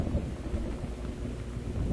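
Thunderstorm in the video game Gone Home: steady rain hiss over a deep rolling rumble of distant thunder, continuous and fairly quiet, with no voices.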